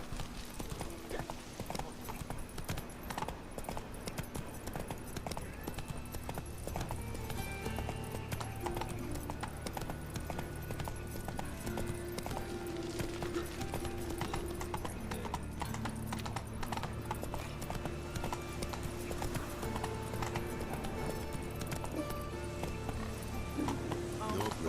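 Roach the horse gallops in The Witcher 3, rapid clip-clop hoofbeats running steadily throughout with an occasional whinny, mixed under game music and ambience while someone talks intermittently.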